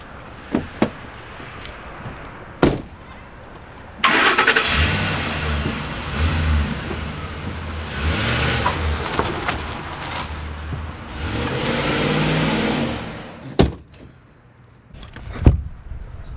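A car engine fires up and pulls away after a deputy asks a man to move his vehicle, with a steady rumble rising and holding for several seconds between short thumps of a door and keys.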